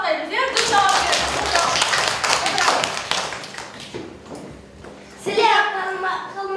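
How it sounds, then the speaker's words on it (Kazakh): Schoolchildren in a primary-school class clap their hands in a quick, ragged burst. Children's and an adult's voices are heard before and after. "Қол шапалақтаймыз, иә?"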